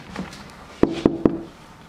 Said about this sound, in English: Oh, you knocked on his door?